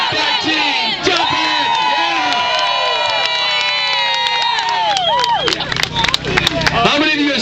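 A Tea Party rally crowd in Sioux Falls, South Dakota cheers and shouts loudly, with overlapping voices and whoops swelling throughout.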